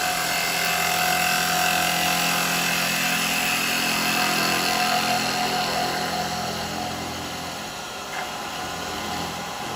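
Bowl gouge push-cutting wet wood for a miniature cowboy hat on a lathe, a steady loud whirring hiss of the spinning wood and cutting edge with a constant motor hum, easing slightly toward the end.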